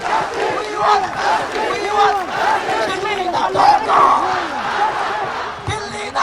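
Protest crowd at Shahbag chanting slogans in loud, rhythmic unison, many voices shouting together in repeated call-and-response phrases that rise and fall steadily.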